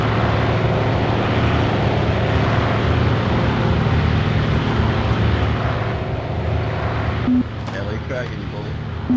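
A warplane engine roars in the video game Aces High 2 during takeoff, a dense, steady propeller drone that holds close and loud throughout, dipping slightly near the end, with no voices over it.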